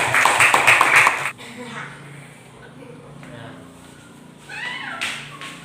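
A classroom of children claps in a quick rhythmic pattern for just over a second, close and loud, then stops abruptly as a teacher and pupils start talking.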